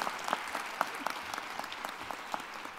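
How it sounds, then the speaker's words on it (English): Community audience applauding at a nonprofit gathering, a steady wash of many hands clapping at moderate distance, fairly even throughout with a few sharper claps standing out. "I think that all of you deserve a round of applause."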